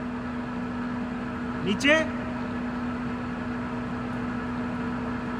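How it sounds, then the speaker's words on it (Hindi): A Swiss Hauser double column jig boring machine runs its spindle by hand and gives out a steady, even hum. A short chirp and a brief spoken word rise over the hum near the middle. "ऐसे मैनुअली भी स्पिंडल को चला के बोर कर सकते हैं"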